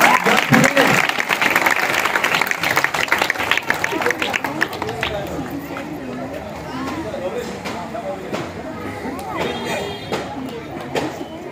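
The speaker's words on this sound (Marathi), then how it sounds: "विहानचं हे चित्र आहे, पटकन सगळ्यांनी जोरदार टाळ्या वाजवा।" An audience at a children's drawing competition applauds a young boy's drawing, loud clapping at first that thins and fades into scattered claps and murmuring chatter toward the end.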